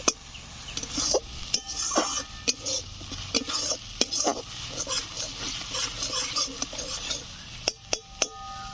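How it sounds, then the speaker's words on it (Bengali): Spice paste with salt being sautéed for a fish curry, a utensil scraping and clanking against the pan in quick irregular strokes over a steady sizzle, close and fairly loud. "মশলা ভালো করে কষে নেব"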